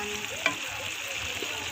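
Beef masala curry frying in ghee, a steady close sizzle with faint stirring scrapes and one brief clink, no talking.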